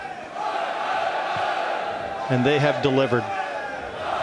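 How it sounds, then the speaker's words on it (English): Home crowd at a Mosconi Cup pool match in 2016 roaring and chanting in a dense, steady wash of cheering throughout, with a commentator talking over it. "you can hear the crowd at home"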